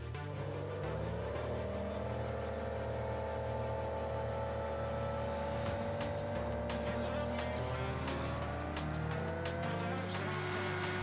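A log-shaped car in BeamNG accelerating toward top speed, its simulated engine holding a steady droning tone that slowly rises in pitch, continuous and moderately loud with faint clicks throughout.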